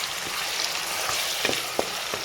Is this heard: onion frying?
yes